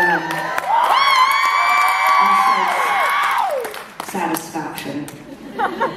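A concert crowd cheers and whoops loudly, with high shouted voices and applause swelling together. The noise then thins into scattered clapping and calls.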